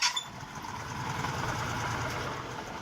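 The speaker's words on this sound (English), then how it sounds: "Listen to that thing rev." A Buick 3.8L V6 car engine roars steadily at a rough, rumbling idle-to-rev pitch, loud and close, after a brief sharp noise at the start; no voices.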